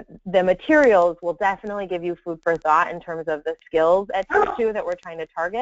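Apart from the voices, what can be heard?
dog barking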